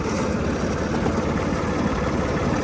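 A Mitsubishi MTR-300 mini tractor engine runs in high gear, giving a steady, close mechanical drone with no talking.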